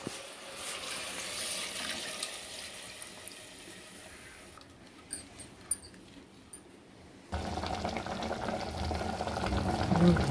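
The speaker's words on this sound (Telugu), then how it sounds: "కూర అయితే బాగా ఉడుకుతుంది" Curry of small fish with tamarind-leaf powder bubbling in a pot, a steady soft boiling hiss with a louder, denser simmer in the final seconds and no voices.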